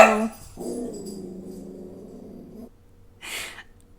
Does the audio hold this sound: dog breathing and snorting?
yes